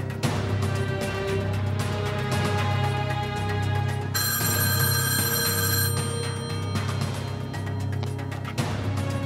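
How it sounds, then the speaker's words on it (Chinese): A telephone bell rings loudly and continuously in a wartime setting, a steady electric trill with a brighter, harsher burst in the middle, heard alone with no voices. "我去给刘科长打电话"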